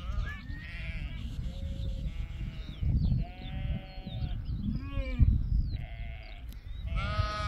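Sheep, lambs and rams bleating at a mountain sheepfold near a forest, many overlapping wavering calls from near and farther animals, one after another over a steady low outdoor rumble.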